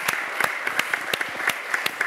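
A church congregation claps together in a steady rhythmic beat, about three claps per second, fairly close and continuous with no talking over it.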